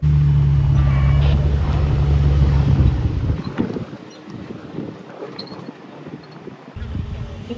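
A Ford 4x4 grinds along a narrow off-road track at a camp in Oman, its engine rumbling loud and close for about three seconds before fading into rough wind and rolling noise.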